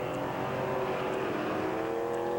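Race cars roar around a 4/10 mile speedway, a loud sustained engine drone with steady tonal whine and no voices, engines holding speed down on the low line of the oval.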